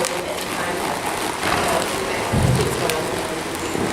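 Steady rain falling outdoors near a horse, a constant close hiss of drops with no breaks, fairly loud throughout.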